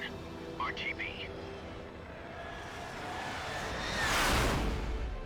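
A MiG jet aircraft in the video game Metal Gear Solid 3 swells from a distant rumble to a loud roaring pass near the end, with brief bird-like chirps early on.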